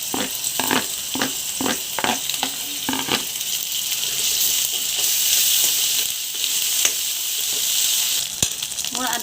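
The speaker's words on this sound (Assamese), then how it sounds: "এতিয়া মই আদা নহৰু পেষ্টখিনি ইয়াতে দি দিছোঁ।" Ginger garlic paste sizzling in a hot oiled pan for a pumpkin and chicken dish, a steady close hiss and fry with rhythmic stirring scrapes early on, continuing alone.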